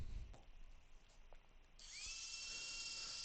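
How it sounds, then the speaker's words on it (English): A small propeller on a motor spins up partway through, giving a faint, steady high whine after quiet room tone, with no talking. "So now I'm going to turn on my high-tech propeller here."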